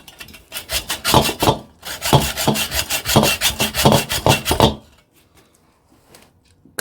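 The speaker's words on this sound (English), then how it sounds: "I got my hand saw. So we're gonna saw across this way and open it up." A hand saw cuts across scrap to open it for copper, sharp rhythmic rasping strokes close and loud in two bursts before falling quiet.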